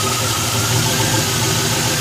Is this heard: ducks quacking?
no